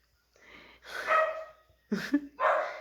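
Dogs bark in a quiet yard: three sharp, close barks, spaced out, with short pauses between them and no talk.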